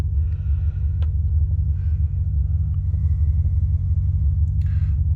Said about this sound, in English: Rover 4-litre V8 here, obviously fuel injected, just rumbling away as it should.